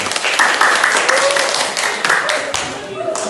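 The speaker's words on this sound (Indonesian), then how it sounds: "Tepuk tangan untuk kelompok 1." A group of classmates applauding a student group during a school lesson, steady close clapping with voices mixed in throughout.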